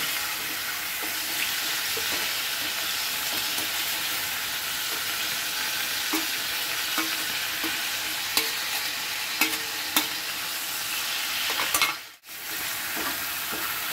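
Chicken pieces frying in a pan with onion, ginger and garlic paste for chicken dum pokto, a steady close sizzle with occasional stirring clicks and a brief dip near the end.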